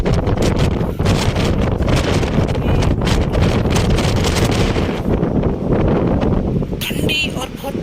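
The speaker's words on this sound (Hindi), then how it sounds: "ठंडी और बहुत तेज हवा आ रही है।" Very strong, cold outdoor wind in Mississauga buffets the microphone with a loud, constant roaring rush that barely lets up for the whole stretch.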